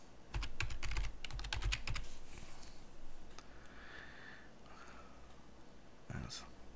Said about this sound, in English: Let's just type in settings